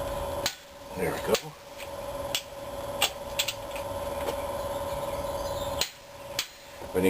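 A torque wrench set to 70 foot-pounds tightens bolts during Chevy engine assembly, giving several sharp, separate clicks spread across the stretch over a faint steady hum, close by and fairly loud.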